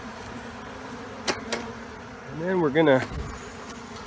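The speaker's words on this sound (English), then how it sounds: "Lots of bees in here." Honeybees in an opened hive during an urban bee rescue near Tampa Bay, Florida, a dense close-up drone with a louder swell of wingbeats midway and someone talking briefly over it.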